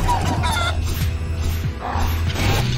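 Cartoon chicken clucking in the action platformer Guacamelee! 2, several short squawky clucks over busy game music and effects, loud and close with no talking.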